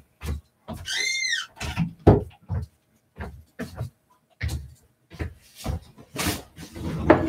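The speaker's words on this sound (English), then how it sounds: "Let me shut that door." An indoor door swings and is shut nearby, with a run of thumps, knocks and rattles and a brief squeak, spread over several seconds with short pauses.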